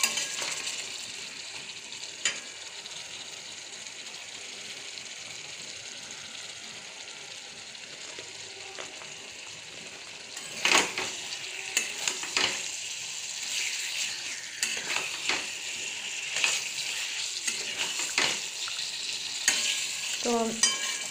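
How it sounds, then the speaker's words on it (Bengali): Potato and pointed gourd with tomato stir-frying in a pan. A steady low sizzle runs throughout, and repeated scraping stirs of a spatula come in the second half. "এটা দেখুন কষতে কষতে আমার আলু পটলটাও সিদ্ধ হয়ে যাচ্ছে।"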